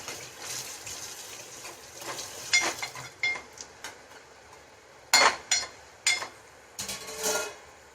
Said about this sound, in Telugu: సో ఇది ఫ్రై అవ్వాలి కొద్దిసేపు